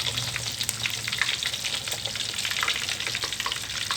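Snakehead fish frying crisp in a pan, a dense, steady crackling sizzle heard up close, with light stirring noises mixed in.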